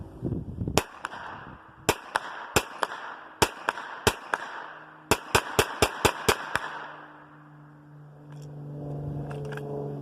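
Ten sharp gunshots from a firearm emptying a 10-round magazine, fired in an irregular string of single and quick-paired cracks with a steady background hum and no talking.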